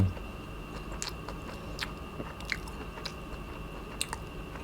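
Kimchi being chewed close to the mic during a mukbang eating session, with soft crunchy bites and wet chewing spread across the clip, punctuated by a few sharper crisp crunches.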